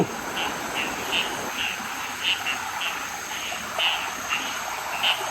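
Frogs croak in a steady nighttime chorus, with repeated mid-pitched calls rising every second or so over a dense bed of insect buzz, moderately distant and free of talk.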